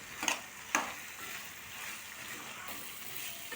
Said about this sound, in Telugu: బంగాళాదుంపల్ని మధ్య మధ్యలో కలుపుకుంటూ ఫ్రై చేసుకోవాలి